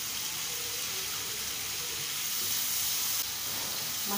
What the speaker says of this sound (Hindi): मसाले हमारे अच्छे से भुन गए हैं, मसाले में तेल छोड़ दिया है।